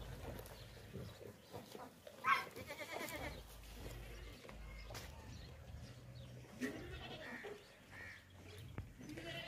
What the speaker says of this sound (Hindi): ये टोटल 20 बकरे हैं